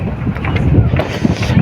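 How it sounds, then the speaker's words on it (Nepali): Strong, cold wind blowing outdoors by a river, buffeting loudly and continuously with a low, rough rumble. "कस्तो हावा चलिरहेको छ।"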